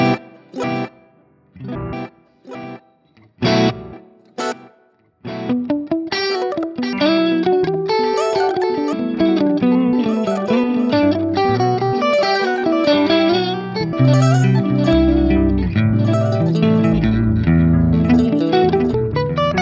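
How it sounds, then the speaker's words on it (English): An Axe-Fx III guitar tone runs through a glitchy delay whose square-wave LFO snaps the pitch in rapid octave-style jumps. A few sparse, choppy notes come first, then a dense, loud stream of warbling, stepping guitar lines with echoing repeats continues to the end. "This is going to give us that kind of very rapid pitch interval in there."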